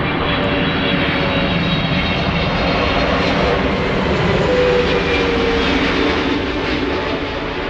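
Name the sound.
KLM airliner passing by at Schiphol Airport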